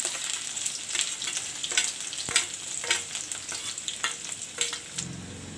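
Ginger and garlic fry in hot mustard oil as a patty stuffing is started, a steady close sizzle with scattered spoon scrapes and taps throughout.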